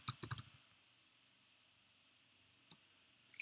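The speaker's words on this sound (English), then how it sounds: "You type in your password." Quick clicks of a computer keyboard as a password is typed, a short burst of keystrokes at the start and a lone tap later, faint and close in a quiet room.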